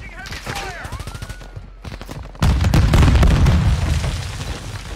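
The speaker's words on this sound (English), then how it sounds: "Oh, those grenades are coming in. That grenade launcher." Grenade launcher rounds explode during a video game firefight. Rattling gunfire and voices give way to a loud, booming blast that rumbles on under continued shooting.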